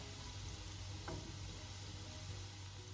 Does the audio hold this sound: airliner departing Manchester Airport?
no